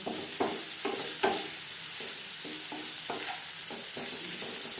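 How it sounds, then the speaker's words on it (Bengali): Onions and green chillies frying in a pan for a bhola fish tomato curry, sizzling steadily while a spatula stirs in a series of even scraping strokes, near and clear, no speech. "পেঁয়াজ লালচে করে ভেজে নেব অবশ্যই পেঁয়াজ লালচে করে ভাজতে হবে"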